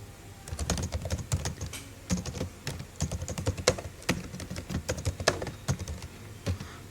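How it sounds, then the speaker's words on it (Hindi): Fast, close clicking of a computer keyboard as an email address is typed, with uneven bursts of keystrokes and short pauses between them. "मैंने यहाँ पर ईमेल को टाइप किया"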